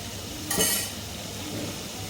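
Masala being stirred in a clay pot over a wood-fired stove while cooking goat head gravy: one brief scraping clink of the spoon, then a soft steady sizzle close by.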